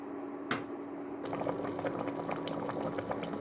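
Thick pear jam syrup bubbles softly in a pot, a quiet continuous simmer with small pops, after a faint clink near the start.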